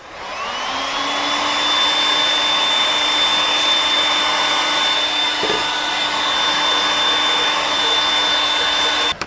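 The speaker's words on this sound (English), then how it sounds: "whenever you're using the heat gun, you don't have to worry about if you're putting too much heat" A heat gun warms a sublimation tumbler with a steady, loud blowing whir that holds for about nine seconds and has a faint tonal whine, heard up close with no talking.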